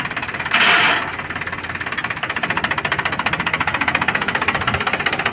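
A 2008–2009 Mahindra 265 DI tractor idles with a steady, rapid diesel knocking pulse, loud and close, and a brief higher hiss near the start; no one speaks.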